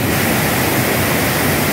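Close, loud waterfall on a river, a constant roaring rush of falling water with no break and no voices.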